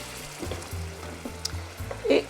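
Vegetable broth ladled into a pan of rice for arancini cacio e pepe, a soft sizzle with faint liquid splashes and a brief louder hiss near the end.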